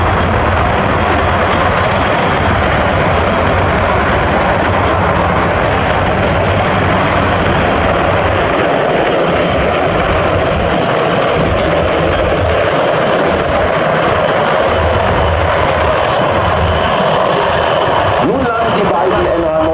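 Loud, constant aircraft engine drone fills the whole stretch, a heavy roar with a voice occasionally audible beneath it.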